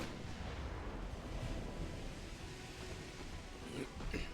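Warship guns firing in the naval strategy game Ultimate Admiral: Dreadnoughts, from a heavy cruiser, as a dense, continuous rumble of heavy booms and crackling blasts that stays loud and steady throughout.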